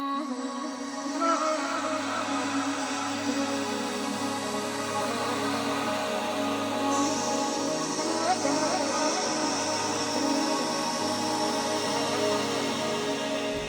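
An ambient beat melody with its full effects chain of EQ and convolution reverb, a dense, steady layered texture of sustained tones and a low pulsing line running unbroken for around fourteen seconds, no voice.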